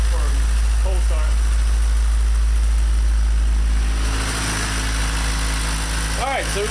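A car engine idles steadily after a cold start, a low constant rumble with vibration up close, while someone talks over it at intervals.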